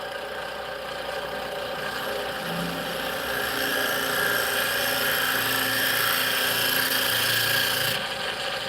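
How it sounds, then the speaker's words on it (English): A bowl gouge rounds the end of a spinning workpiece on a wood lathe, giving a steady, loud droning motor hum with a continuous scraping cut layered over it and no talking. "I'll go below center, round her to the edge."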